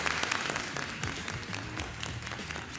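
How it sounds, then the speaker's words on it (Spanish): A seated audience gives steady applause for Eric Goles, a dense even patter of many hands at moderate level that continues without a break through the short stretch. "Fuerte el aplauso para Eric Goles"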